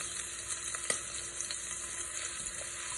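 Vegetables frying in hot oil in a pan for goulash, a soft continuous sizzle with a few sharp spatter pops and light scraping, no speech.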